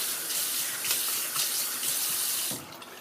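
Tap water runs steadily into a sink as soap is rinsed from a shaving brush, a continuous close splashing hiss that cuts off near the end, followed by a few faint drips.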